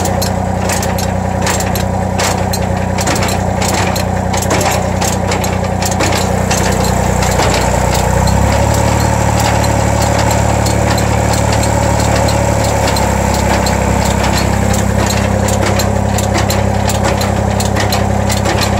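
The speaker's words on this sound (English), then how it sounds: "it starts moving the material forward, increase the speed. I'm going to do it another notch." An ABI P50 manure spreader runs loud and close as it shreds and throws compost, its engine drone steady while the pitch shifts partway through as the feed speed is raised a notch.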